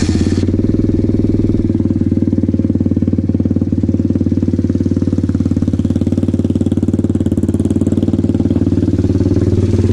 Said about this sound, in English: we're gonna start up the bike and let the bike run for a few minutes